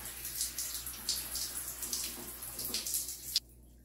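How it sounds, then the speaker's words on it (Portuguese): A cold home shower pours water onto a person washing hair, a loud, close, hissing spray that splashes unevenly before cutting off abruptly near the end. "esse chuveiro daqui de casa, ele é muito gelado"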